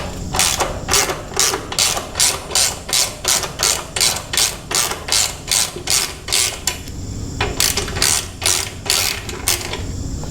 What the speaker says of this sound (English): The front one, you'll need a 1/2 inch wrench on.